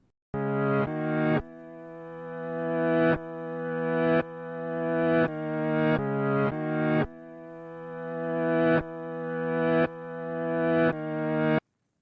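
A dry synth chord progression of about a dozen sustained chords, each cut off cleanly with no echo or reverb tail. No voices.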